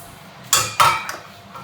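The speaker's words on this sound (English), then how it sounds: "we're going to whisk that together and set aside" A whisk clatters against a mixing bowl of flour, baking soda and salt, giving three sharp metallic clinks in quick succession, close and fairly loud, with quiet in between.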